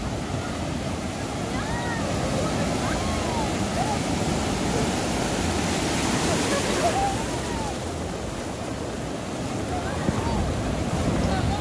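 Sea waves roll onto the beach at El Majahual, El Salvador, a continuous broad wash of surf and wind buffeting the microphone, with faint voices and splashing mixed in.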